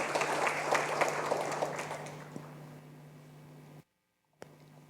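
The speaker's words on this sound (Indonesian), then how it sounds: "berikan tepuk tangan meriah buat Tuhan kita" A church congregation applauds during an online worship service, a dense patter of clapping at moderate level that thins out, stops abruptly in a brief silence, and resumes faintly afterward.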